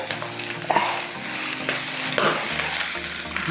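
Onion being stirred into beef frying in a pan for an Eid beef dish, with steady close sizzling and a few sharper scraping stir sounds throughout, no talking.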